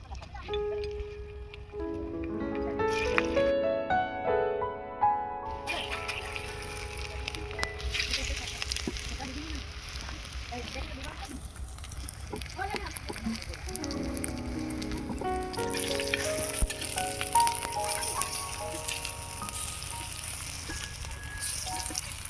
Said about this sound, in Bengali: এবার আমি সাদা তেল দিয়ে দেবো এবার আমি চিংড়ির বড়াগুলো ভেজে নেবো